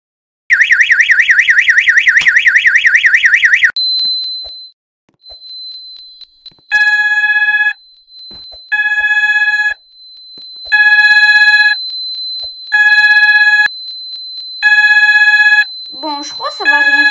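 A level crossing alarm sounds at the Stanging Coach level crossing signal box: first a fast, loud warbling tone, then a repeated series of bright electronic tone pulses with short gaps, and a brief voice at the end.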